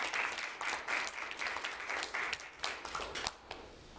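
An audience claps at an award presentation, a dense burst of applause from many hands in a room, fairly close and lively, rising and falling slightly before tapering near the end.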